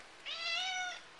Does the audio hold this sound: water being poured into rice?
no